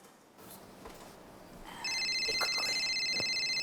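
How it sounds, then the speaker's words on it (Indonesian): A telephone rings with a repeated electronic trill that starts partway through and keeps going, loud and close, over a quiet room background with no talk. "ada telepon"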